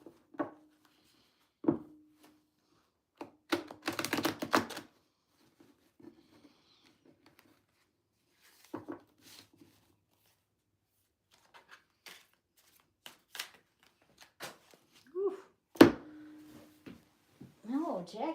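A deck of cards being shuffled in a few short riffled bursts, with a longer flurry near the start, set between stretches of a nearby voice talking.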